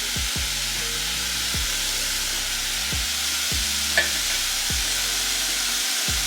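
Ground meat sizzles loudly and evenly in a pan while a utensil breaks it up, with repeated scraping strokes at a fairly regular pace and one sharper tap.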